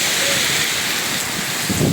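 Heavy September rainstorm in Adana, Turkey: rain pours in a dense, constant hiss, loud and close, with wind roaring through it, strong enough to threaten trees.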